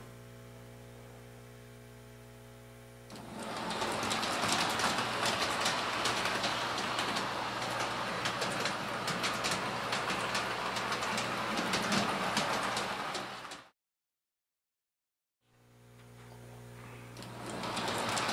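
Model trains, a large-scale and an S-gauge, rattle and clatter continuously along a DC shuttle track over a steady electrical hum, then the sound briefly cuts out before the hum returns.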